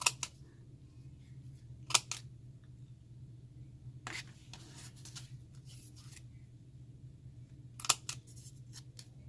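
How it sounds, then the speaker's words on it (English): A few crisp clicks and snips, some in quick pairs, over a steady low hum; close and fairly quiet, with longer gaps between. "I want to use my round corner cutter."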